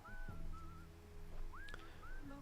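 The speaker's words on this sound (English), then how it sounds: "It's some emo skinny kid just whistling." A person whistles a tune in a Telstra TV advertisement, short rising and falling melodic phrases standing out clearly over a steady low background bed.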